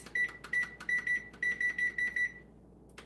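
A kitchen timer near a 450-degree oven beeps in a quick run of about ten sharp, high electronic bleeps as buttons are pressed, ending with a short pause and one more tone.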